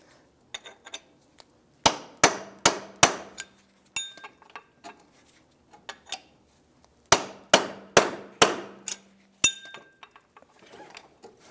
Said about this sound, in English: So I have a punch that I'm going to keep right there in the center, and I'm going to just push that right out.